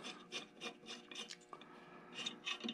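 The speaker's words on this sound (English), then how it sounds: "we're going to do a little bit of filing this way and a little bit this way" A hand file rasps metal on a clutch part held in a vise for a 154 Low Boy, with close, faint, rhythmic strokes, roughly ten back-and-forth passes in a steady cadence.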